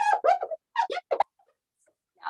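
A few short, rubbery squeaks in quick bursts as a hand rubs a clean bathtub, close by, followed by a pause and one more squeak; no talking.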